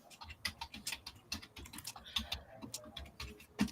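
Fast, irregular tapping of keys on a computer keyboard, close and fairly quiet, with clicks arriving in quick bursts and short pauses between them.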